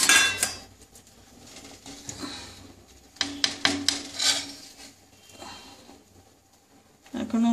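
A metal pot lid clatters and scrapes as it is lifted off a pot of gota seddho simmering on a low gas flame, with a few sharp clinks close by and soft kitchen noise in between.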